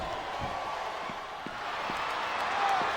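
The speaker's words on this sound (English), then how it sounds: "This capacity crowd is making their opinions known tonight." Capacity arena crowd in the Smackdown vs Raw 2007 wrestling video game, a steady, distant roar of cheering that builds slightly, with faint thuds scattered underneath.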